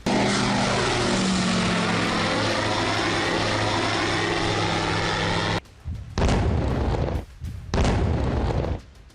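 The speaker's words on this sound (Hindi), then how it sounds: "यूक्रेन पर रूस ड्रोन अटैक कर रहा है।" A drone flies overhead during a Russian drone attack on Ukraine, its loud propeller engine droning with a shifting pitch, then cut by several heavy bursts and blasts.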